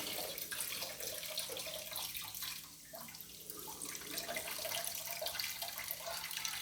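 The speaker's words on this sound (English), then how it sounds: "I'm just going to strain the water off" Water runs and splashes steadily from a sink as washed rice is strained for turmeric coconut rice, a continuous faint trickling stream that dips briefly midway, with no talk.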